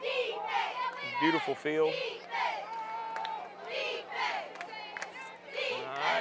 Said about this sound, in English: As you hear the crowd getting into it down here